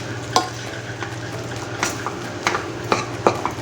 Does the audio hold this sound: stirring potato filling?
yes